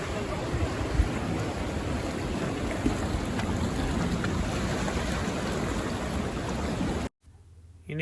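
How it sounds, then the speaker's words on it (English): Sea water surging and rushing through a narrow rock canal on the coast of Western Australia's Margaret River region, a dense continuous roar of surf and wind that cuts off abruptly near the end. "And out the back, the water just rushes through there."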